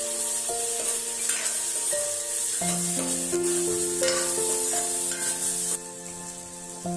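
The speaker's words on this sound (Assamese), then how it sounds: "মটৰ আৰু পিঁয়াজ একেলগে দি ভালদৰে লৰাই দিব।" Peas and onion added to carrots frying in a pan for masala Maggi, with a steady sizzle under scraping stir strokes and soft background music tones, no voices.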